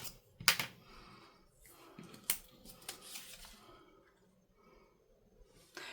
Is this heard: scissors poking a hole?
yes